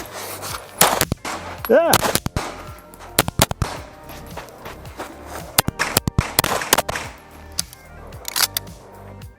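Staccato P pistol firing a rapid string of about fourteen rounds, sharp loud cracks in quick bursts with brief pauses between, a short spoken word at one point.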